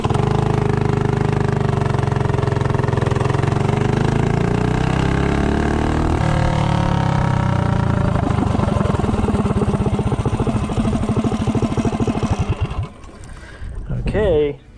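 Predator 212 small engine with a standard-length intake revs up hard from a steady drone, its pitch climbing as it accelerates to 30, then cuts off abruptly near the end; loud and close, no talk.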